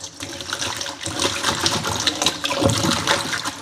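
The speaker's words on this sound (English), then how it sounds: "We'll just get in and wash off now." Tap water runs steadily while a piece of thyme and scallion is rinsed off, a continuous splashing gush with small spatters near the sink.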